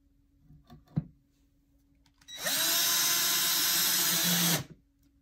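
Power drill driving the longest screws into particle board while assembling a five-drawer chest, a steady loud whirring burst of about two seconds after a single knock, then silence.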